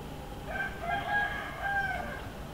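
A rooster crows over a low background hum, its drawn-out cock-a-doodle-doo call repeated in two or three phrases at moderate distance.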